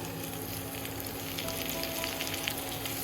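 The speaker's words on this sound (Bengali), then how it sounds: "এই দেখো পেঁয়াজ দিয়ে দিলাম, এবার ইচ্ছা মতন লাড়াচাড়া করবো" Onions sizzling in a pan in a village kitchen, a steady close crackle of frying with faint stirring underneath, no talking.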